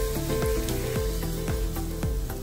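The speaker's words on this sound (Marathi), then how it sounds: "जिरं, मोहरी, कढीपत्ता आणि मिरची आपण फोडणी आता ह्या पेरूच्या" A hot tempering of cumin, mustard seeds, curry leaves and chilli in oil sizzles steadily and loudly for a Marathi grated-guava raita, with a few crackles and pops standing out from the continuous frying hiss.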